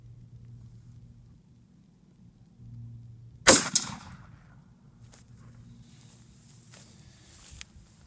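A shotgun fires a single buckshot load through a 4 choke in one sharp, loud outdoor blast, with a short echo trailing off over a low idling hum before faint distant knocks.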